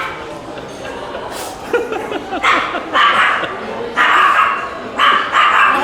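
A dog at a venison event yips and barks in several short excited bursts, close by, mixed with people talking.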